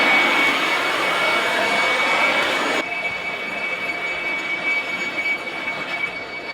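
A leaf blower powered by a Jackery 3000 Pro power station roars loud and close with a steady whooshing rush, then drops abruptly to a quieter, softer airflow partway through.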